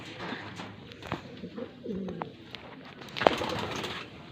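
Pigeons coo softly at close range, with several low, throaty calls over a quiet background.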